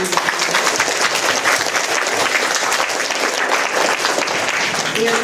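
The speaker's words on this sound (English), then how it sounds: "Let's give him a big round of applause." Steady, dense audience applause for a judge at a mock trial event, loud and continuous throughout with no talk over it.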